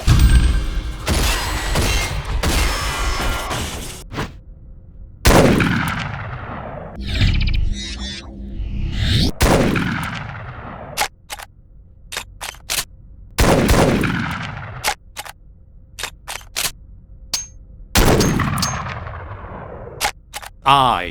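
Shotgun blasts in a first-person shooter game, about seven or eight heavy booming shots spaced a couple of seconds apart, each followed by a decaying tail with mechanical reloading clicks between, with occasional voice in the background.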